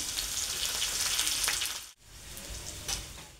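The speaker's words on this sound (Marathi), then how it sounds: "कढीपत्ता टाकून घ्यायचा यामध्ये" Garlic and curry leaves frying in a pan make a dense, close sizzle that briefly cuts off midway and then resumes with a few crackles, no talking.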